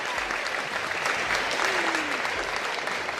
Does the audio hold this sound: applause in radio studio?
yes